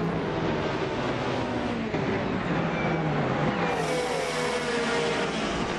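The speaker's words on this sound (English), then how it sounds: "The lead cars, the Ferrari 488s and 458s there at the start, passing one of the BMW M3s." Ferrari 488 and 458 race cars pass a BMW M3 at the start of an Assetto Corsa race, a dense, steady roar of several engines revving and droning together, loud and continuous with a rising whine near the end.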